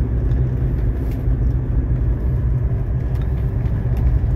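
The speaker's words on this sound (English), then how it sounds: "we are now running on cruise control" A 1985 Mercedes 300SD rolls along at a steady speed of about 30–35 mph on cruise control, giving a constant low rumble of engine and road noise from inside the car, with no speech.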